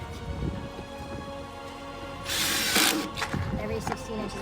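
A power screw gun drives screws into Trex composite decking, giving a short loud whirring burst amid clicking mechanical handling noises, close by.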